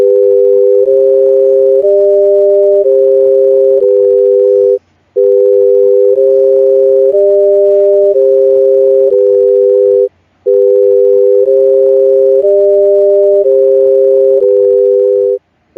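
Two close steady tones sound together, their pitch stepping up and down in a repeating pattern, with a slow beating pulse in the combined sound. The tones play loud and alone in three equal passes, each broken by a short silence.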